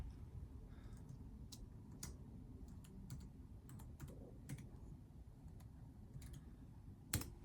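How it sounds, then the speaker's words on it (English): Quiet, irregular clicking of a Mac Pro computer keyboard being typed one-handed, with sparse taps and short pauses between them, close by and alone. "Typing one-handed."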